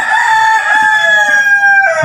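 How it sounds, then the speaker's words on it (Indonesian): A rooster crows loudly and close by in one long drawn-out call that dips in pitch at the end, with no voices over it. "Itu suasananya menyenangkan kalau mendengar ayam berkokok itu."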